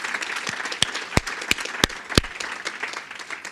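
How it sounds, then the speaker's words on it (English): An audience at a morning housing and health session claps for the speakers and moderator, a dense, fairly close wash of applause punctuated by several sharp, prominent individual claps. "a round of applause"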